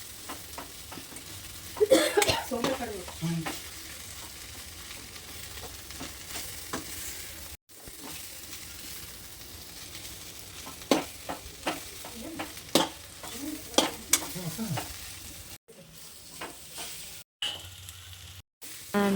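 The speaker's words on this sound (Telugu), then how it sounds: "అండ్ గార్నిషింగ్గా కొరియాండర్ లీవ్స్ వేసుకొని మిక్స్ చేసుకోవాలి." Gobi fried rice with coriander leaves is tossed and stirred in a pan, with repeated close scrapes and clatters of the spoon over a low steady sizzle, coming in uneven bursts and broken by a few short silent gaps.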